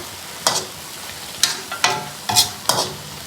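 A simmering vegetable sauce is stirred in a pan, with four or five distinct scraping, sloshing strokes over a low bubbling background, close up and without voices.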